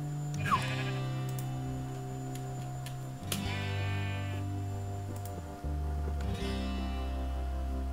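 A sheep bleats loudly up close several times on a farm outing, each wavering cry standing clear over a steady low rumble of background noise, with no talk over it.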